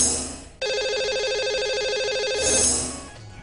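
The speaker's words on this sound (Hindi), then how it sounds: "आइए सबसे पहले लगाते हैं आज के लकी कॉलर का नंबर" A telephone ringtone rings steadily and loud for about two seconds as a radio host dials the day's lucky caller, standing alone with no talk over it.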